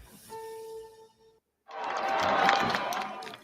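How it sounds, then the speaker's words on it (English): A large crowd at a Turning Point USA campus event at UVU chants while awaiting Charlie Kirk, a loud, sustained swell that follows a brief steady tone and a moment of silence. "Supporters start chanting Kirk's name ahead of his appearance."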